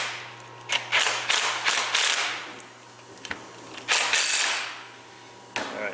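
Torque wrench clicking while tightening a disc brake caliper during an overhaul, with several sharp mechanical clicks and ratchet bursts in irregular clusters, fairly close, against a low steady hum.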